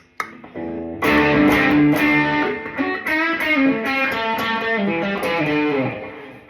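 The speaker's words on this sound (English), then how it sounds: "I'm going to engage the blues driver in combination with the mega distortion." Electric guitar through a Blues Driver and a Mega Distortion pedal strums thick, saturated chords, loud and continuous after a brief quiet pick at the start, with a rhythmic choppy attack.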